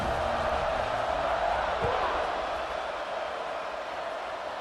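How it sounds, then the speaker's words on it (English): Stadium crowd at an American football game buzzing after a late touchdown, a steady dense roar of many voices filling the space at even loudness throughout. "this crowd is buzzing after that last score"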